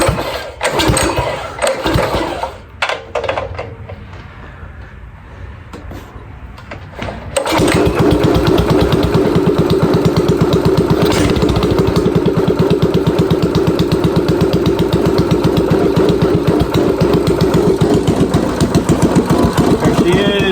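A drift kart's small engine cranks through a few rough, sputtering attempts, then catches at once and runs loud and steady with a buzzing, even rhythm; a voice speaks during the early tries.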